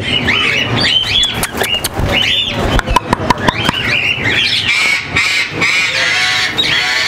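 Pet birds at a bird farm in Lahore, Pakistan, where macaws and red-winged parrots are kept, squawk and honk loudly and nonstop, harsh screeches overlapping with chirps and sharp calls, close and raucous throughout.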